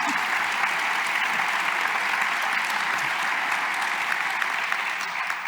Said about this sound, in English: Give them a round warm of applause